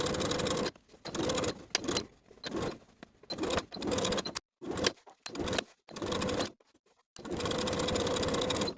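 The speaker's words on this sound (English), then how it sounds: "sewing the facing to its seam allowance underneath with about 1/8 inch seam allowance for both pieces" A sewing machine runs in repeated bursts while stitching a dress facing to its seam allowance, each steady whirring run broken by short pauses, close and loud.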